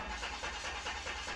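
A DeLorean engine with Bosch Jetronic fuel injection and a cold-start fault catches briefly and runs rough and close for about a second, a steady mid-pitched rumble with no voices.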